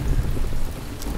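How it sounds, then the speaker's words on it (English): Heavy, steady rain pours inside and around a hut in Ancient Cities, with a dense hiss of drops and a low rumble, continuous and close throughout. "It's pissing, pouring rain inside the hut as well."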